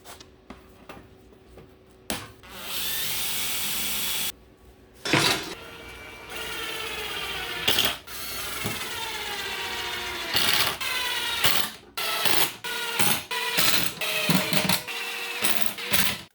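A power drill whirs in several sustained bursts with short pauses between, a ratcheting mechanical buzz up close, ending in quicker stop-start runs as screws drive home into 1/2-inch plywood for a tool cart.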